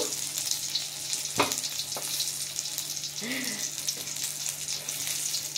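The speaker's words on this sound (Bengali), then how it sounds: "বেগুন ভাজার সঙ্গে লঙ্কাও দিয়েছি, লঙ্কাটাও সুন্দর ভেজে গেছে।" Brinjal slices and green chillies frying in oil in a pan, a soft continuous sizzle with a couple of sharp clinks of a utensil, fairly quiet and close.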